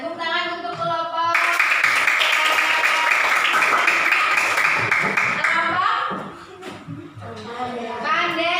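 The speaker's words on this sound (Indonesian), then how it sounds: "Ya, tepuk tangan untuk kelompok." Students in a classroom clap together for a group for several seconds, with voices talking over the clapping before it fades into more chatter.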